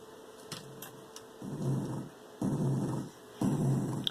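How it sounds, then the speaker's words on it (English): A game block repeatedly landing on the ground in a Game Maker Studio project gives off short, low rumbling thuds at about one-second intervals, each with a growly, buzzing texture over a faint background hiss. "Sounds, blocks hitting the ground and making that noise."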